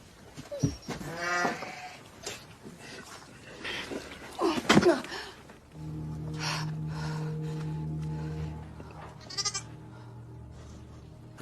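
Sheep bleat on a farm during lambing while a lamb is being born. Several short bleats come near the start, followed by scattered rustling and a steady low hum beneath them.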